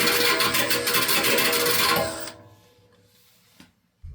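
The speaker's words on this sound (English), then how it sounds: "It's a kind of a grinder bit, grinder disc, plastic back, so it's a little flexible." A flexible plastic-backed grinder disc grinds on a part of a 1991 Maytag A5000 top-load washing machine, a loud dense whine with rapid pulsing for about two seconds, then stopping and leaving quiet rumbles and a final low thump.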